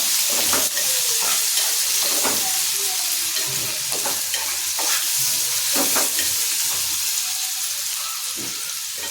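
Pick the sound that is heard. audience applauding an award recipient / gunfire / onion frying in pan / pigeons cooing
onion frying in pan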